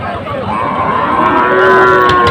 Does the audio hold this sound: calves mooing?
yes